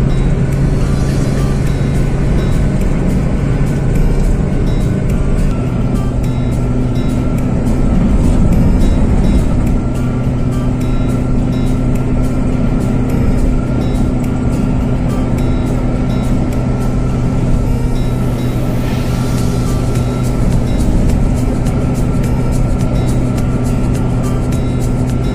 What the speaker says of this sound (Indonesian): Bisa berkendara dengan kecepatan di atas rata-rata karena kita berada pada jalan tol